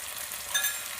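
Egg roll filling with coriander leaves, chili powder and turmeric gets stirred in a hot pan, giving a brief soft sizzle and scrape with a small bump midway, and no talk.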